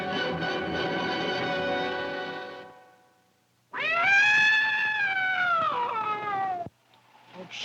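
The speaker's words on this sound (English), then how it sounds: "It serves you right putting your tail into the rocker. Bad cat." A cat yowls after its tail gets caught in a rocking chair in a kitchen, giving two long, loud, wavering cries with a short pause between them and a third starting as the sound cuts off.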